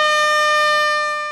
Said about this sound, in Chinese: 鸣笛响起，宣布城中城大楼拆除开始